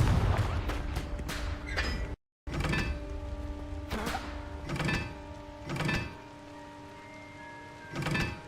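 Confringo blasting spell cast repeatedly in Hogwarts Legacy, a series of sharp explosive bursts roughly once a second with ringing tails, one brief dropout of silence between them.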